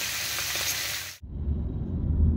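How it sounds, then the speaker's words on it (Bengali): Fish frying in a pan gives a bright, steady hissing sizzle for about a second, which then gives way abruptly to a lower, rumbling background noise. "এদিকে মাছ ভাজাও হয়ে যাবে"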